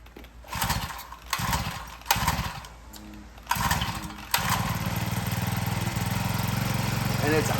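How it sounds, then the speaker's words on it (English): A free motorcycle that sat unused for seven years, primed and choked, cranks in several short bursts of turning over, then catches and settles into a steady, continuous engine run. "Let's see if we get this thing fired up."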